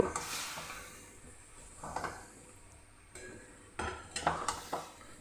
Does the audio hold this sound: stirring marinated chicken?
yes